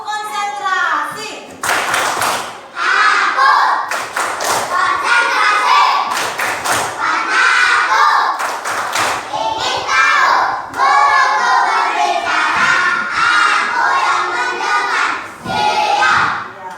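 Children in a classroom perform the "tepuk konsentrasi" clapping routine, loud rhythmic bursts of hand claps and thumps alternating with chanted group voices, close and energetic throughout.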